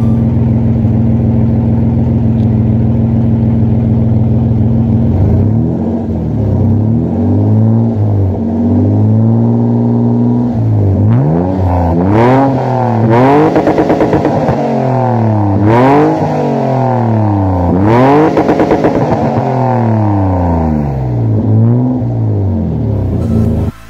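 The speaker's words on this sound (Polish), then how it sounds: "posłuchajcie jak to auto brzmi" A viewer's car revving loud and close, a steady idle rumble that climbs into repeated sharp rev bursts, each swelling and dropping back several times.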